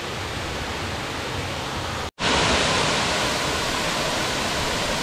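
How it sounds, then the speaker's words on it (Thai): The second tier of a waterfall in Kanchanaburi pours down in a loud, dense, unbroken rushing roar, close by, with a brief cut in the middle before the flow continues. "ทุกท่านชมเลยครับน้ำตกชั้นที่2ฟังเสียงสายน้ำตกไหลลงมาครับ"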